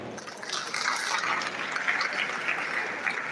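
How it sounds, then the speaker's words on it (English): Applause from a ceremony audience welcoming Professor M.D. Ahmadu, a surgeon, at a doctors' induction ceremony; a steady, soft, hissing wash of many hands clapping at once, fairly faint and continuous without talk. "Please, a resounding applause for Professor M.D. Ahmadu"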